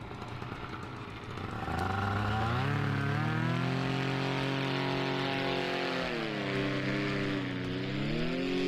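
A paramotor engine in a slalom competition at the FAI World Paramotor Slalom Championships, droning steadily after a quieter start, its pitch rising and dipping as the craft turns through the course.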